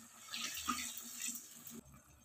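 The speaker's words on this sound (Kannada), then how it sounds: "4 ಟೇಬಲ್ ಸ್ಪೂನ್ ಅಷ್ಟು ನೀರು ಹಾಕೊಳ್ಳಿ." Water is poured into a frying pan holding garlic, green chili, curry leaves and red chili sauce while restaurant-style chicken 65 is being cooked, making a close, steady rushing splash that stops abruptly near the end.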